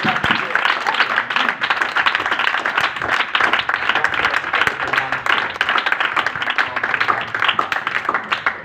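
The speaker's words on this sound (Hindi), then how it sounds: "एक बार जोरदार तालियां" A church congregation claps loudly and continuously at a Christian ministry service, a full, sustained wave of applause with some voices mixed in.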